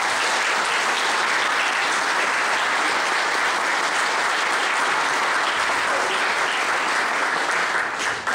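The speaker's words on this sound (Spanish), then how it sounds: "démosle un caluroso aplauso, un caluroso saludo al profesor García" Loud, dense applause fills a university lecture hall as an audience welcomes Professor García at a law and politics session at UNFV in Peru, sustained clapping throughout with no break.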